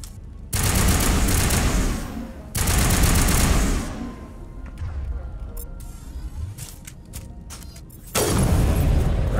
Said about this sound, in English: this is sniper rifle